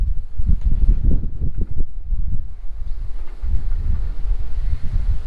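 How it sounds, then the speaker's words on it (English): Steady gusting wind buffets the microphone on an oceanfront resort balcony in Riviera Cancun, Mexico, with a low roaring rumble, rising and falling continuously; no voices, just blustery outdoor air. "It's going to be a little windy."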